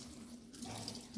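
Water streams steadily from a kitchen tap as coriander is washed for prawn curry, a soft, even rush that runs alone for about a second.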